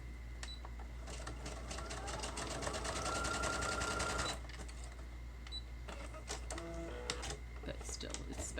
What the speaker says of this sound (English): My husband got me this sewing machine for a wedding present.